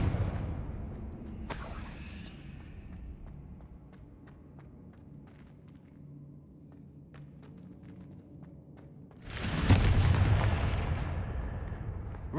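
A Confringo fire spell explodes in Hogwarts Legacy: one sharp blast early, a low rumbling ambience with faint ticks through the middle, then a second loud, broad burst near the end that trails off into a sustained roar.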